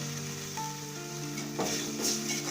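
Strained tamarind extract poured into a sautéed mixture for rasavangi crackles in the pan with a soft, steady sizzle, faint and close, a few sharper pops near the end.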